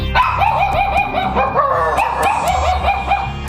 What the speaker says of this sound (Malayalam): ലഹരി സംഘത്തിന് കാവലൊരുക്കി വളർത്തു നായ്ക്കൾ ഏഴോളം വരുന്ന നായ്ക്കൾ പോലീസിനെ തടഞ്ഞു